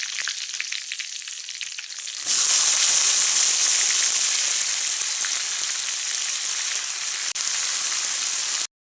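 Green bean pods dropped into hot oil with cumin and garlic burst into a loud, bright sizzle that holds steady, following a quieter frying hiss, close up with no talking.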